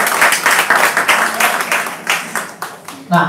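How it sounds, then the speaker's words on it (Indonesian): A small audience at a livestreamed discussion on renewable energy claps in uneven bursts, fairly close and loud, tapering off toward the end as a voice begins to speak. "Tepuk tangan untuk Devtia"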